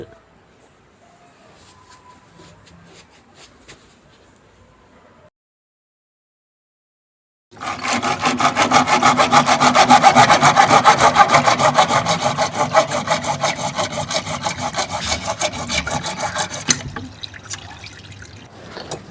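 A hand saw cuts through a pipe line on a water tank in fast, even back-and-forth strokes, loud and close, running for about ten seconds after a quiet stretch with faint handling noises.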